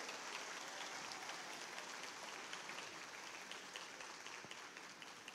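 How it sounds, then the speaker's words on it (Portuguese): A church congregation applauds steadily throughout, a dense wash of clapping from many hands in a large room, fairly even in loudness from start to finish. "Pessoal, uma salva de palmas para eles."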